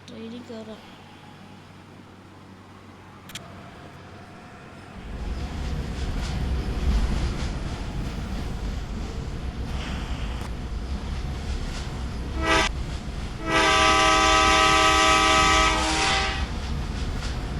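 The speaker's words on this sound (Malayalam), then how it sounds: "ട്രെയിൻ വന്നിട്ടുണ്ട്." A train pulls into a station and rolls past, starting with quiet waiting, then a heavy low rumble building in, wheel clatter, and a loud horn blast near the end.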